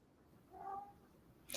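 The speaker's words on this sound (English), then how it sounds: "Sorry, my cat's screaming." A vocal house cat lets out a single short, loud yowling cry, followed by a sharp burst of noise.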